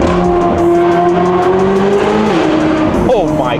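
Car exhaust through a stainless steel F1 valve muffler with traction pipes sounds out, a loud sustained engine drone with rising and falling pitch as it accelerates through an underpass, under some talk.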